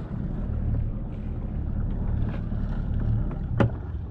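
A sailboat's inboard engine rumbles steadily at low pitch as the boat leaves the port of Scarlino in Tuscany, with a short throttle burst amid wind and water noise and a faint click near the end.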